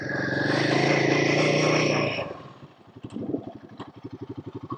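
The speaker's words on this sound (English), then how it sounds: "By the time I hit fourth gear, that's really where the bike starts to breathe" A Royal Enfield Himalayan 452 motorcycle engine roars steadily while riding off-road, then drops to a low, pulsing, thumping idle-like chug at close range.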